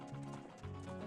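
Hoofbeats of Epona, the horse in Zelda: Ocarina of Time, a brief burst of galloping clip-clop over game music, quiet and fairly close.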